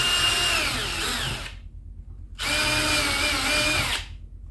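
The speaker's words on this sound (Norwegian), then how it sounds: "Passer på at man ikke borer gjennom." Close, loud power drilling into a wooden kitchen cabinet door comes in two sustained whirring runs separated by a short pause.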